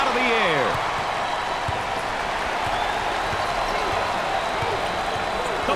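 A packed basketball arena crowd at an NCAA tournament game roars in a steady wash of cheering, with a sneaker squeak near the start and a commentator talking over the noise.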